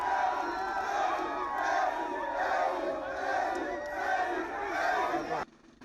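A crowd of Ivorians living in Algeria cheers and shouts in welcome for President Alassane Ouattara, a dense, loud, continuous roar of many voices that cuts off abruptly at the end.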